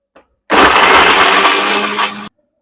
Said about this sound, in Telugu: ఇంకైతే మిక్సీ పట్టేసేసుకుంటా